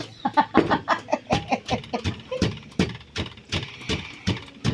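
Farm chickens cluck in a steady run of short, clipped calls, close by, with faint background noise and no talking.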